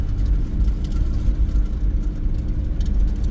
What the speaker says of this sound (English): I'm sure my engine's loud going through this stuff. Probably making a ton of noise splashing through this.